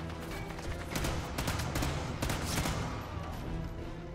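Rapid bursts of rifle fire in the Sniper Elite 5 video game, a dense, loud run of overlapping shots across the whole stretch that eases off near the end.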